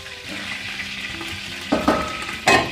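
Eggplant pieces frying in hot oil for Hyderabadi baghare baingan, giving a steady close sizzle that flares into louder bursts of crackling as more pieces hit the pan.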